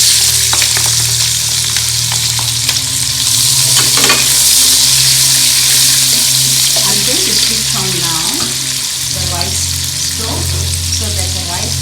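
Onions sauté in oil in a pot while cooking nasi lemak, giving a loud, steady sizzle and frying hiss with occasional stirring scrapes, close up and continuous.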